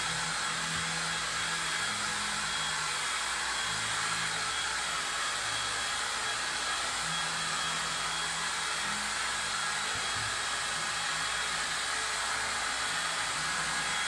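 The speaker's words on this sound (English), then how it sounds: "let me just dry this really quick" A hair dryer blows steadily on a chalk paste transfer for a craft project, a constant close airflow roar with a faint low motor hum running the whole time, no talking.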